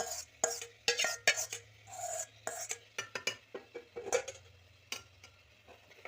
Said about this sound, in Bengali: ভালো করে এবার এটা কষে নেব মশলাটা।